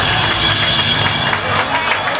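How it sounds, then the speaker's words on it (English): Applause from a live audience for a performer at a small show, a dense steady patter of many hands clapping throughout, with a few cheers mixed in. "See, that's a clap that everybody should get."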